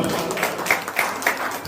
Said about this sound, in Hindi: एक बार जोरदार तालियों का स्वागत है।